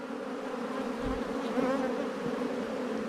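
Honey bees at an open hive make a dense, continuous buzzing hum close by, with individual bees droning past over the steady swarm sound.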